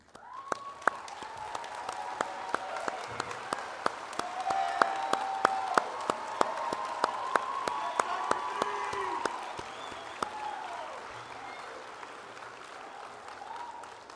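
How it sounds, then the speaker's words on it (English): Graduates and students in a university auditorium applaud and cheer at a spring commencement ceremony, a steady wash of clapping with scattered shouts that swells mid-way and gradually thins toward the end. "I hope all those in attendance notice the cheers and clapping and shouts of the graduates and the students in this auditorium"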